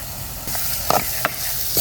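Cumin seeds crackling and sizzling in hot oil during village-style Tamil cooking of a fish curry, a steady hiss with a few small sharp pops, close and moderately loud.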